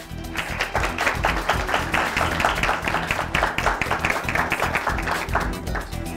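Audience clapping to welcome candidates at a televised election debate, a dense continuous patter of many hands at moderate volume with no voices over it.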